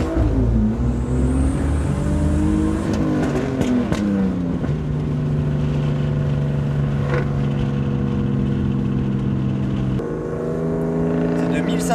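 A BMW turbo car engine runs during a test drive, a steady droning hum whose pitch rises and falls as it revs, then settles into a smoother, even tone.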